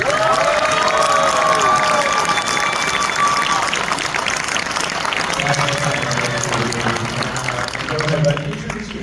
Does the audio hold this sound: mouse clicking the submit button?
no